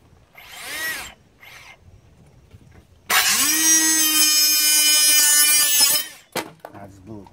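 A RIDGID 18V subcompact multi-material saw cuts for about three seconds as a loud, steady whine. Shorter bursts and handling clatter come before and after it.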